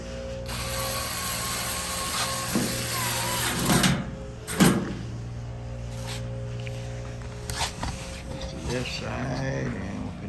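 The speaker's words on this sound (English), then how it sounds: "And you have your 1/4-inch screws to screw in and lock it in place." A hand ratchet drives 1/4-inch screws into a Maytag Bravos XL electric dryer, making quiet, close, repeated clicking runs broken by a few louder knocks and clunks.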